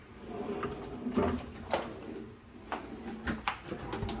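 Kitchen cabinet drawers in a condo unit sliding open and shut, several close clunks and knocks spaced irregularly, with soft sliding rumble between them and no talk.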